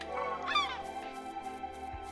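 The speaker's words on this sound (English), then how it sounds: "Is that seagull following me?" A seagull in the Chained Echoes video game calls, a short honking squawk rising near the start and then fading, with a low game backdrop and no speech.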